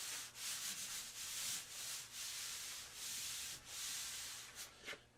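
Chalk is rubbed into a drawing of mountains with soft, rhythmic scrubbing strokes. The strokes are close and quiet, repeat steadily for several seconds and carry no speech.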